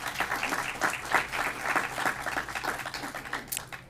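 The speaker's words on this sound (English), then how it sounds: "Please help me give them a round of applause to thank them for their support." Audience at a business summit gives a round of applause, a fairly quiet, thin patter of clapping from a modest crowd that gradually tapers off.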